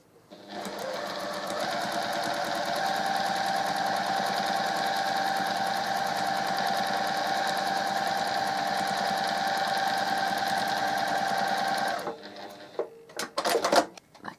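A sewing machine runs steadily for about twelve seconds while stitching a quarter square triangle quilt block, then stops and a few clicks and handling noises follow.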